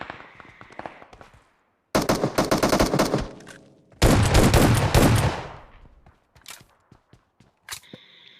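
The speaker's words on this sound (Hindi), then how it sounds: "उसको भी मैं शॉटगन से ही मारता हूँ" Shotgun fire in PUBG Mobile, two loud close bursts of blasts with clattering, separated by pauses, followed by quieter clicks and small game sounds.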